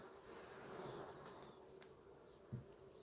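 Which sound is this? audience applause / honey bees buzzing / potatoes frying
honey bees buzzing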